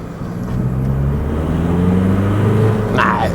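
A Volkswagen Bora drives along with a steady, loud engine and road drone heard from inside the cabin, plus a short higher chirp near the end that could be turbo chatter.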